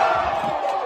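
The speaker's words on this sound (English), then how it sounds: "You hear that crowd though?" A football stadium crowd roars in a dense, sustained wash of cheering, loud and continuous through the short moment.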